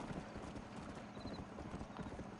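Horse hooves clip-clop at a steady trotting rhythm in the Red Dead Redemption video game, close and fairly loud, with a faint snort or whinny mixed in.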